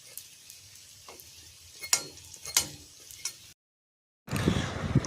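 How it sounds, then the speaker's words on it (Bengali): Cream buns fry in hot oil with a soft, steady crackle and a few sharp pops, followed by a short silent gap and then a louder burst of sizzling. "এই যে ক্রিম বন রেডি, একদম ভাজার পালা এখন।"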